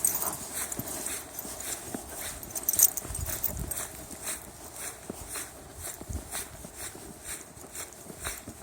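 Dogs trot through fresh snow during a snow storm, their paws crunching in a quick, irregular rhythm close by, with wind noise and faint panting; no one speaks.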